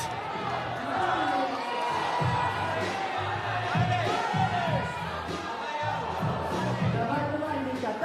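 Spectators at an indoor bouldering competition final making a mix of cheers, shouts and murmuring while a climber is on the wall, with thuds of holds and mats breaking through the steady crowd noise.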